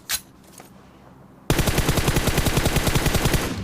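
Rapid automatic gunfire from a video game blasts in a loud, steady burst of evenly spaced shots after a brief quiet stretch, close and dominant with no talk.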